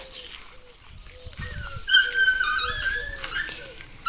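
A dog outside a house whines to be let in, giving a run of repeated high, thin whimpers at moderate distance, with birds chirping faintly in the background.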